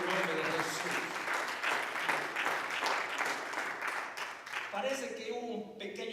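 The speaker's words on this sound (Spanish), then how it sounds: "Dele fuerte ese aplauso a Jesús, mi hermano." Church congregation applauding during a sermon, a sustained clatter of many hands clapping that fades toward the end as a voice comes back in over it.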